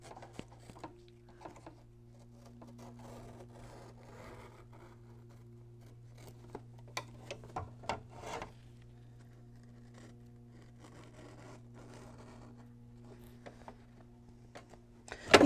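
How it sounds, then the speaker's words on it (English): Several quiet, crisp snips and clicks of scissors cutting close through fabric held in an embroidery hoop, clustered in short bursts over a steady low hum, with no talking. "take your scissors, leave it in the hoop, and I'm just going to cut"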